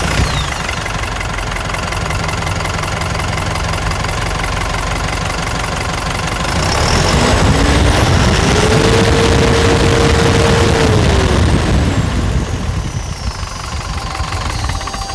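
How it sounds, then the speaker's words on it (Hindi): A Tata LPT 712 BS6 truck's diesel engine idles with a steady clatter, then revs up for a few seconds around the middle and settles back to idle. It is loud and close, with no talking. "इसका इंजन का साउंड आपको सुनाते हैं"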